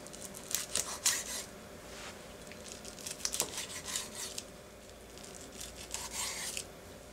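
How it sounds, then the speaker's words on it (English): A knife slicing a vegan tofu sushi roll on a cutting board, with soft, close scraping cuts in short irregular bursts and a few light taps on the board. "We're going to slice our sushi roll in half first."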